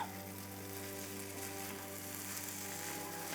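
A breakfast scramble with cheese sizzles steadily in a frying pan, a dense continuous crackle heard up close with no talking.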